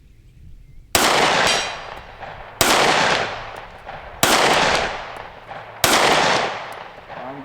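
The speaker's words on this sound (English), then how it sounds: "All right, P365 at 100 yards." Four sharp, loud P365 pistol shots fired at a 100-yard target outdoors, spaced about one and a half seconds apart, each with a long decaying echo.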